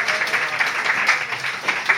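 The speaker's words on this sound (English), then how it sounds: "Let's give them a round of applause." A comedy audience at the Belmont applauds in a steady, dense round of clapping that fills the whole stretch, with individual claps popping out over the crowd wash.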